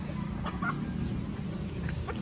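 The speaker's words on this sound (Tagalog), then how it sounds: "Yun, pinapakain na ni Papa yung ating mga manok." Backyard chickens being fed by a farmer, with soft, intermittent clucks over a steady low rumble of background noise; a few brief calls stand out near the middle and end.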